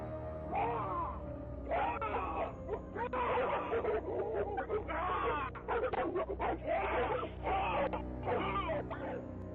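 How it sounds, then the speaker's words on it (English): A pack of aggressive dogs barks repeatedly and overlapping at a man, a dense, continuous run of barks and yips close by, with occasional whimpers mixed in. "a lone individual is confronted by a pack of aggressive dogs"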